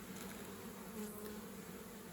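Bees in a swarm trap that have never been fed before buzz steadily around a syrup feeder with a wooden stick float, a close, continuous drone with no voices.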